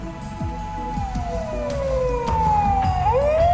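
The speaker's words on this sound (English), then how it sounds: "As I begin to pry, a shrill siren shatters the night." Police car siren in the Steins;Gate video game, a loud wail sweeping steadily downward in pitch, then jumping back up and starting another sweep, heard over a low rumbling background.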